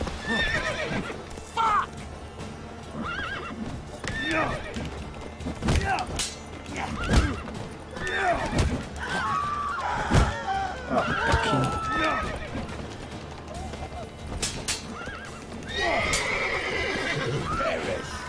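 Video game horses whinny and neigh repeatedly amid clattering hoofbeats and thuds, with people talking over the busy, chaotic scene throughout.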